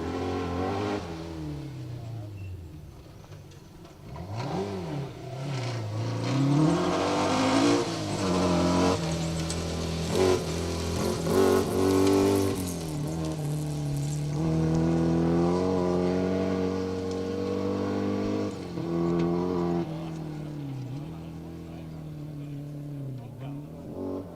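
A powerful Mercedes rally car engine revs and roars on a stage of the Woodpecker Stages Rally, pitch sweeping up and down through gear changes, loud and sustained throughout.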